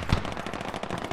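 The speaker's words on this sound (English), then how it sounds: "That's probably the anti-aircraft." Anti-aircraft gun fire in the Squad video game, a brief, dense burst of rapid heavy shots with one loud thump near the start, fairly close and continuous, with no talk.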